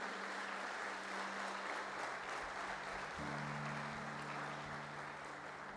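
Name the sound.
congregation applause in church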